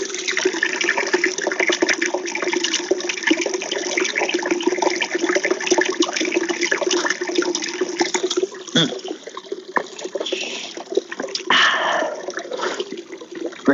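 Water runs steadily from a homestead tap or container, a continuous splashing pour that fills the glass for a drink, loud and close, with a brief break near the end before the flow resumes.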